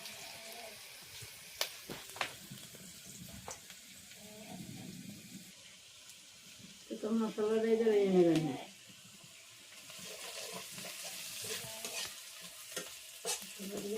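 Onion frying lightly in a pan gives a soft, low sizzle with scattered stirring taps, interrupted midway by a brief burst of a voice.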